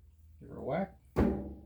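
A single sharp whack struck on a chuck sled for a PM-1228VF-LB metal lathe, a loud near thunk that rings briefly, coming after a stretch of talking.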